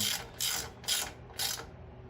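A ratchet clicks in three or four short bursts while bolts are tightened on the aluminum air cleaner cover of a Porter Cable 8000 watt generator, close and crisp with brief pauses between strokes.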